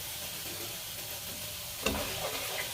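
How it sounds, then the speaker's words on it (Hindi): Chillies dropped into hot garlic tempering oil for kadhi, a sudden sharp sizzle bursting up after a quiet stretch and hissing on close by, no talking. "और ये मिर्चों को डाल के फौरन ही तड़का लगा देंगे कि ये काली ना हो जाए"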